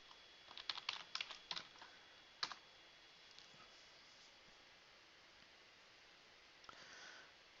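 Several quick bursts of keystrokes as a command is typed on a computer keyboard, faint and close, with brief clicking clusters and a long quiet stretch of room hiss afterward.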